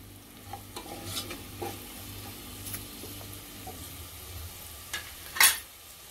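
Turmeric sautés in hot oil with cooked onions in a pan, giving a faint, steady sizzle with soft spoon stirs and a few light scrapes and clinks nearby, no talking.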